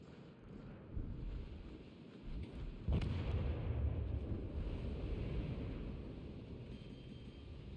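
Heavy naval guns in a warship video game boom once sharply near the three-second mark, then a deep rumbling roar rolls on under wind and sea-like noise, without talk.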